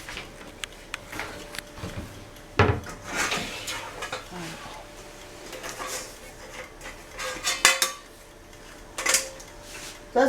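A metal colander and cooking pans clatter and clank in a home kitchen while spaghetti cooks, with several sharp knocks and rattles spread across the stretch, fairly close, over a low steady background hum.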